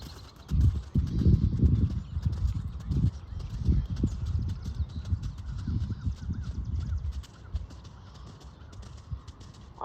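Horse hooves drumming under a rider during a canter at a clinic, a steady rolling beat of soft thuds that fades a little toward the end, with faint outdoor ambience and birds in the background.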